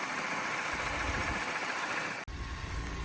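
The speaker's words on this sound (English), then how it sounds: "it's hunting up and down due to the timing being out" A Peugeot 207CC engine idling with its timing out, a steady close mechanical drone with a slight unevenness and a brief cut near the end.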